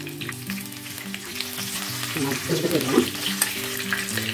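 Brinjal slices fry on a tawa, a loud close sizzle with clattering turns and scraping in the middle as the pieces are flipped, settling back into steady frying.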